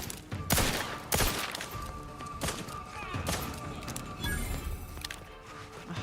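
Gunfire in the video game Starfield comes as several sharp, loud shots at irregular intervals, with the first few close together and later ones spread apart, over a dense background of game noise.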